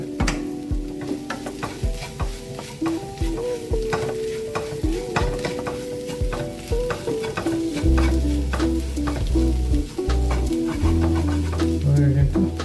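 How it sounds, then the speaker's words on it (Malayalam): Chicken curry masala fries in a pan while being stirred constantly, loud repeated scraping knocks of the spoon over a steady sizzle, with a tonal background sound underneath. "അപ്പോൾ ജസ്റ്റ് അത് മൂത്ത് റെഡിയാകുന്ന ഇങ്ങനെ നന്നായി കളക്കി കൊടുത്തോണ്ടിരിക്കുക"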